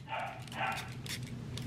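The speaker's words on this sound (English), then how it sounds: "Sorry if you hear the dog barking in the background. I have a new puppy." An eight-week-old puppy gives three quick, high yips, spaced apart and faint in the background of a quiet indoor room, with no one speaking.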